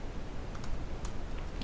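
Fingers typing on a computer keyboard, a soft quick patter of a few faint clicks over a low background hum, with no talking.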